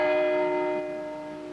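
Church bells rung across America for a September 11 remembrance, a steady sustained peal of overlapping bell tones that slowly decays, clear and fairly close with no voices.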